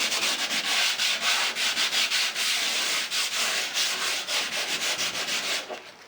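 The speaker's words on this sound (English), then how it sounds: "I'm going to use this piece of sandpaper here to further sand it down" Sandpaper worked by hand over a drywall edge during wall preparation, loud steady rasping strokes in a quick back-and-forth rhythm, close up with no talking.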